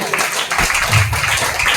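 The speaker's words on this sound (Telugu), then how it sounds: "చప్పట్లు కొట్టి" A church congregation at a Wednesday anointing service claps hands together, a dense, loud burst of applause lasting under two seconds with no clear gaps between claps.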